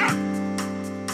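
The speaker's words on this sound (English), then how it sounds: "Did I hear a dog barking?" Dog barking in Final Fantasy VIII Remastered, a few short yips repeating at a steady pace over a sustained in-game music drone, fairly close and moderately loud.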